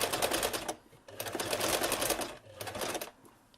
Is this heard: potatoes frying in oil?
no